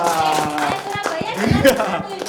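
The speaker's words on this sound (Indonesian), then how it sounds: "Tepuk tangannya dong Bapak Ibu semuanya" Audience clapping at a Suara Muslim community gathering, a few distinct claps rising under loud, continuous talk and chatter.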